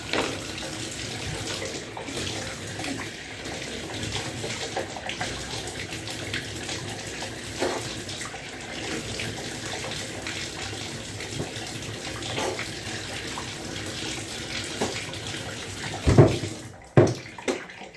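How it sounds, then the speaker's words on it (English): Water runs steadily from a bathroom tap for a long stretch, splashing continuously, as a person puts their head under it, gargles and spits, with a few louder gurgling splashes near the end. "I'll stick my head under, gurgle the water in my mouth, and then spit it out."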